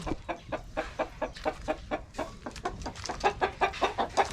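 Chickens, including black Australorps, cluck steadily in quick, repeated bursts nearby on a small farm, a busy flock chattering with overlapping calls.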